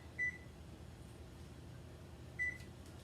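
A kitchen timer gives two short electronic beeps, about two seconds apart, while being set for zucchini canoes, over a low steady room hum with no talking.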